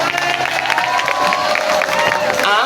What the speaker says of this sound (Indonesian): Tepuk tangan yang meriah untuk SMP 1.